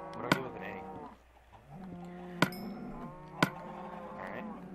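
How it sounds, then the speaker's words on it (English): A cow in the video game Minecraft gives several drawn-out moos, one after another, with sharp clicks from the game landing now and then between and over the calls. "Why is there a cow in the chicken there?"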